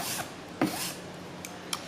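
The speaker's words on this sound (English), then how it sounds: "Getting all the scratches out from the first file," A metal file rasps across a workpiece edge to remove scratches, giving a few quiet, brief scraping strokes close by, with no talk.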